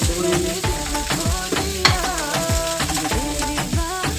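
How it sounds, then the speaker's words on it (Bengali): Peeled potatoes fry and get stirred in a pan with ground cumin paste, a steady loud sizzle broken by rhythmic scraping strokes of a spatula, with no one speaking. "এবার এটা ভালো করে ভেজে নেব। দিয়ে দিলাম আলু, ছাড়ানো আলু"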